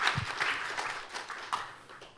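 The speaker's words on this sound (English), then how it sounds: "Please thank Professor John Twigg with a round of applause" Academic audience at a climate adaptation and disaster resilience seminar applauding a professor, a modest, loose spatter of clapping from a small group at moderate volume, thinning out toward the end.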